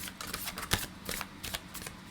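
Tarot cards being shuffled by hand: a close run of quick, papery riffling bursts with one sharper snap midway. No voices.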